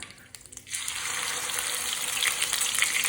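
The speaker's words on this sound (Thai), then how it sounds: "พอน้ำมันร้อนปุ๊บ เราก็จะใส่พริกที่เราตำเมื่อกี้ลงไปค่ะ" Pounded chili paste hits hot oil for a Northern Thai pork and tomato relish: after a quiet start, a loud, steady sizzle bursts in and keeps crackling densely to the end, with no talking.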